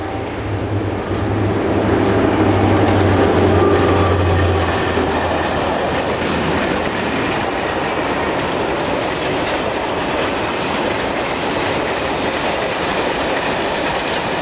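An SNCF class 67400 diesel locomotive, number 67462, hauls a departing train out of Saint-Pierre-des-Corps. A loud, steady rumble of engine and rolling wheels continues throughout, with a low engine drone in the first seconds.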